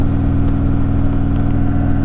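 Harley-Davidson Softail Sport Glide motorcycle with Stage II tuning, a steady deep engine rumble at close range, loud and continuous with an even throbbing beat, no voices.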